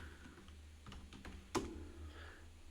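Quiet typing on a computer keyboard, a short run of soft key taps ending in one sharper keystroke, faint and close with no talking.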